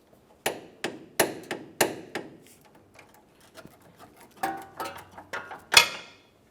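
Torque wrench tightening a rear air shock bolt to 70 foot-pounds on a 1999-2006 Chevrolet Silverado 1500, a series of sharp metallic clicks and ratcheting taps, close and distinct with brief pauses.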